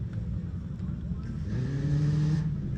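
A rally car drives a 1.9 kilometer autocross stage at Twisty 2 in Ruiru, Kenya, its engine revving and rising in pitch, heard at a moderate distance under commentary.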